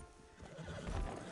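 A horse in Red Dead Redemption 2 gives a loud, close whinny, with hoof clip-clop mixed into the same short burst.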